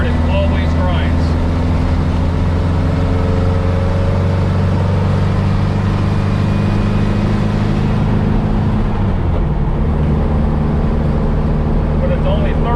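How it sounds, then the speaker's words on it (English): Engine of a VW Baja running while driving, a steady low drone with a shift in pitch near the end as the gearbox goes into third, which grinds on that gear; someone talks over it. "going into third, it always grinds"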